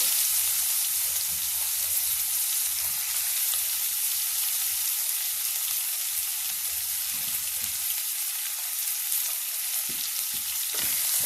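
Onions for egg bhurji frying in a pan with curry leaves, dried chillies and turmeric, a steady, dense hiss of sizzling oil that runs continuously and close, with occasional soft stirring scrapes.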